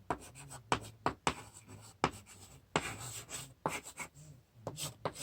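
Handwriting on paper in a classroom-style setting: close, quiet scratching and rubbing strokes in quick irregular bursts, with short taps as the writing tool lifts and lands, no talk.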